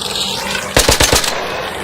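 Gunfire in a video game, a fast burst of about four shots in a row, loud and close, over a steady background hum.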